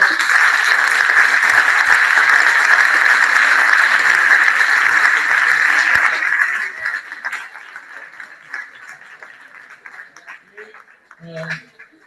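Audience applause at a school conference fills the room loudly and steadily for about six seconds, then thins to scattered claps and murmurs, with a brief voice near the end.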